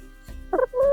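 Loud, close turkey-like gobbling calls from backyard poultry in a hot Central Florida subdivision yard, two harmonic bursts in about a second over light background noise.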